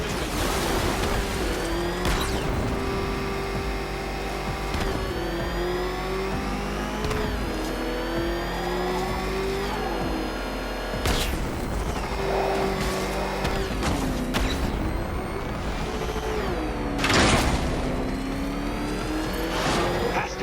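The Batmobile's engine in Batman: Arkham Knight roars and revs continuously, pitch climbing and falling with gear shifts, mixed with tire squeals and whooshing impacts, all loud and close.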